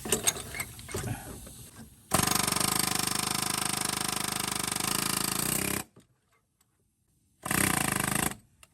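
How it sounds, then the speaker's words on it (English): A pneumatic air hammer rattles loud and close on a Ford Ranger V6 3.0 fan clutch nut, one long steady burst of about four seconds, then silence and a shorter second burst. "now I'm going to use the air hammer to go ahead and crack this loose."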